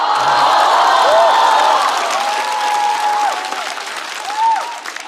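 Audience applause at a stand-up comedy show fills the room with steady clapping and a few scattered whoops and cheers, loud and close, fading slightly toward the end.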